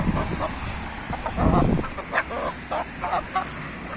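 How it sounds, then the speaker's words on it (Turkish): A rooster in a pigeon coop gives short, clucking and honking calls in quick bursts, close by against a low rumbling background. "Şurada horoz."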